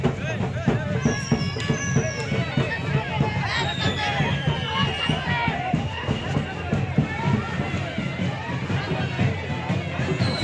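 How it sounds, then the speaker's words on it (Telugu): Firecrackers bursting at a crowded Chowdeshwari temple festival in Brahmapuram, a rapid steady crackle of pops under loud crowd hubbub and nearby voices, continuing without a break. "పైన అది టపాసులు ఎలా పేలుతున్నాయో"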